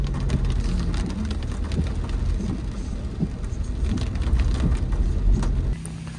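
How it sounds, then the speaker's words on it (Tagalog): Rain pours steadily outside a wedding reception venue in Cavite, a dense patter with scattered heavier drops and a low rumble beneath, and no voices. "So umuulan."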